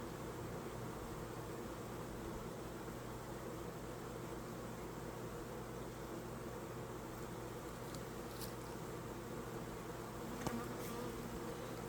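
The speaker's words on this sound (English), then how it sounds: "There's a lot of bees up here." Honeybees swarm and buzz steadily around an open hive being inspected, a dense continuous drone close by with no talking over it.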